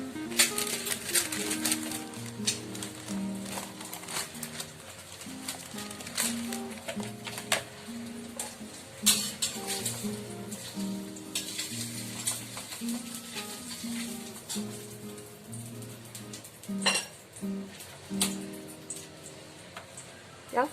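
Pita bread pan frying gives a soft, continuous low sizzle with scattered light ticks and clicks from the pan, faint and steady throughout with occasional quiet voices.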